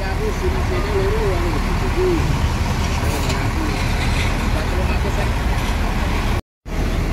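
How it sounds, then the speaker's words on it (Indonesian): A new Putra Remaja 206 intercity bus full of passengers pulls away, its engine rumbling steadily at close range while someone talks over it throughout. "bus Putra Remaja 206 pihak utara berangkat duluan dengan penuh penumpang ini"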